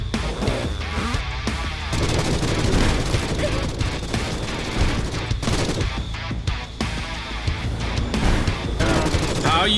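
Rapid, dense enemy gunfire in the shooter game Forgive Me Father, loud and continuous with sustained bursts and booms across the whole stretch, a voice briefly heard under the shooting.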